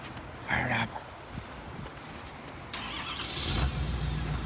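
A truck engine cranks briefly and catches, then settles into a low, steady rumble that grows slightly louder toward the end, with some faint background noise before it.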